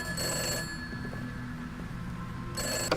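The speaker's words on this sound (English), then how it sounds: "Nothing to be afraid of, Harper. It's just a phone" A telephone bell rings indoors in two short bursts separated by a pause of quiet room tone, clear and fairly close with no talking.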